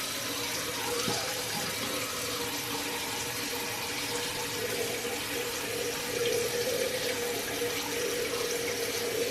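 A tap runs steadily into a sink for rinsing skincare product off the face, a close, even rush of water that continues through the whole stretch with small splashes and no clear talk.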